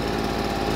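Stihl leaf blower two-stroke engine idling after a carburetor repair, a steady close buzzing drone with a fast even pulse, heard alone.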